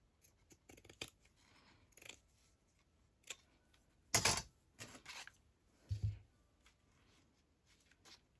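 Scissors snip in short, separate bursts spaced irregularly, with one louder cut near the middle, in a quiet room with no talking.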